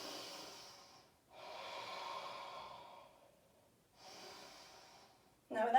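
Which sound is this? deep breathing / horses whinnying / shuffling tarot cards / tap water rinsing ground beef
deep breathing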